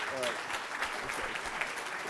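Audience applause closing a conference, a steady broadband patter of clapping at moderate level that holds for about two seconds without breaks.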